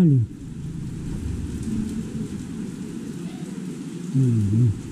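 Steady rain hisses and patters throughout, with a low engine-like rumble rising at the start and again near the end.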